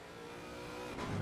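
GT3 race cars accelerating at Kyalami in a sim racing game, a steady, close engine drone with layered harmonic tones that swells louder toward the end, with no talking.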